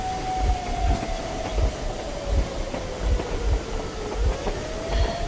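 A train in the Metro Exodus video game rumbles loudly and steadily with a rhythmic clickety-clack of wheels and a long, slowly falling whine riding over the noise.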